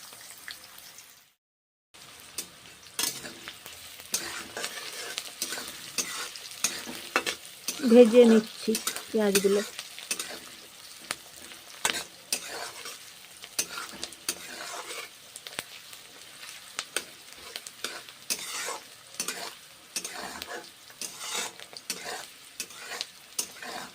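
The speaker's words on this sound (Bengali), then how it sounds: "তেল গরম হয়ে গেছে পেঁয়াজগুলো ভেজে নেব ছেড়ে দিলাম পেঁয়াজগুলো এখন ভেজে নেবো" Onions frying in hot oil in a pan for a garlic cabbage dish, a steady moderate sizzle with scraping stir strokes and light utensil clinks, following a brief silence at the start.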